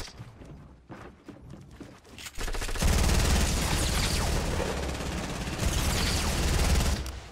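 Sustained SMG fire from Fortnite Battle Royale gameplay bursts in loudly after a few softer shots, then rattles on rapidly and continuously to the end of the clip.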